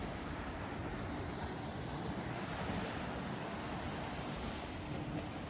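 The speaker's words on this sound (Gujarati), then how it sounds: "મોજા આવે ને ઉપર તો કેવડા મોજા આવે" Ocean waves at Nusa Penida island make a steady, dense roar of surf with wind buffeting the microphone, continuous and loud with no clear breaks between waves.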